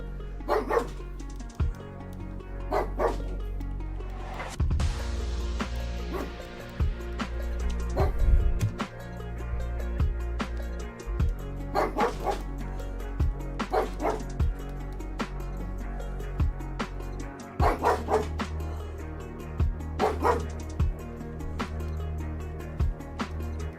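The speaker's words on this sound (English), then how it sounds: "Apologies if you can hear Daruk barking." A dog named Daruk barks in short, repeated bursts, from mid-distance, throughout the stretch, over a steady musical background.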